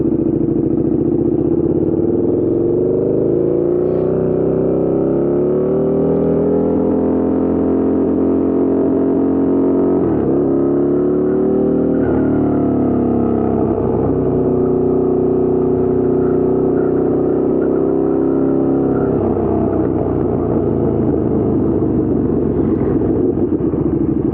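A 2014 KTM 1290 Super Duke R engine, loud and close, with a rising then falling drone and shifting pitch under heavy wind buffeting, as if recorded from the rider's seat.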